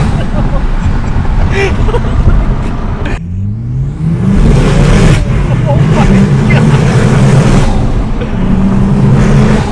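A Toyota A91 Supra with an XFORCE exhaust and intake, no tune, revs hard and roars loudly nearby, its pitch climbing and falling with throttle blips, continuous and aggressive throughout.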